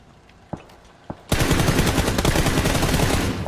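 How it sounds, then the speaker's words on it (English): In the PUBG video game, two single gunshots are followed by a loud, continuous burst of rapid automatic gunfire. "There's someone shooting."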